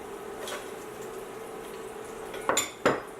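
Half-cooked fried potatoes are lifted out of a pan with a utensil, giving two sharp metallic clinks and scrapes near the end over a faint steady kitchen hum.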